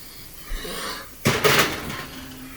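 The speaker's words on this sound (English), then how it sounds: "And then just open your oven." A home kitchen oven door swings open with a sharp clunk and a brief creaking scrape, close and loud against a quiet room.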